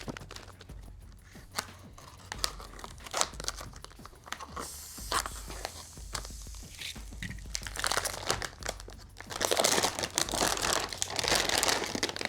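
A package is torn open, its wrapping crinkling and crunching in a steady run of rustles that grow louder and denser toward the end, close by with no voices.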